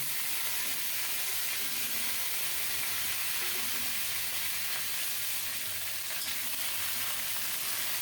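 Cauliflower and raw banana stirred through a spice tempering in a hot pan, giving a steady, low sizzle with soft scraping from the stirring. No one speaks.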